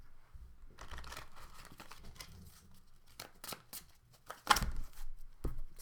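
Tarot cards are shuffled by hand, a close series of papery riffles, slides and crinkles in uneven bursts, with a few sharper snaps toward the end.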